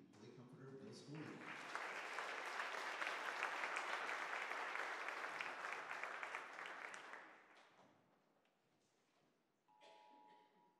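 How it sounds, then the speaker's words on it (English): Warm applause for the Lake Comforter Middle School beginning band at a spring concert, rising quickly after a brief voice and holding steady for several seconds before fading, with a faint tone afterward. "if you please give a warm round of applause to the Lake Comforter Middle School"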